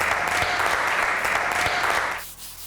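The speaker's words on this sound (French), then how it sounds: "Bravo les candidats. Vous pouvez applaudir." Cooking-challenge contestants on a TV cooking show are applauded by a crowd, dense and loud clapping that holds steady for about two seconds and then cuts off abruptly.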